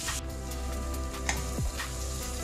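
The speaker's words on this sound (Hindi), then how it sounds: "प्याज को अच्छे से फ्राई करेंगे।" Onions frying in a pan with green chillies for a lauki and chana dal curry, a steady close sizzle with occasional stirring scrapes and no talk.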